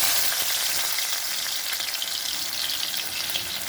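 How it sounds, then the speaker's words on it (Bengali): Garlic drops into hot mustard oil and fries with a dense, loud, even hiss of sizzling that stays constant and close throughout, with no talking. "একটু নুন ছিটিয়ে দেব, দিয়ে আগে রসুনটা দিয়ে দেবো ফোড়নে।"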